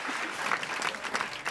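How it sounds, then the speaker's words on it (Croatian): Applause from an audience, edited into a podcast to mark its 50th episode: a dense, steady patter of many hands clapping close by, filling the short stretch with no voices over it. "Moj Dorita nam montira pljesak iz publike."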